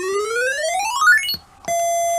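A custom-built Game Boy's sound test plays a bright, buzzy square-wave tone that glides steadily upward in pitch over about a second, cuts to a short silence, then jumps to a steady high continuous tone.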